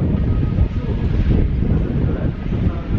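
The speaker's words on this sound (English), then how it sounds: "Seriously wet and windy Disneyland today." Wind gusts roar steadily across the microphone on a wet, windy day at Disneyland Paris, a loud broadband buffeting that fills the whole moment without letting up.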